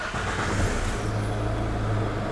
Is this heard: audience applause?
no